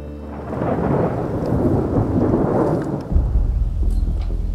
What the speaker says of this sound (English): There's thunder everywhere.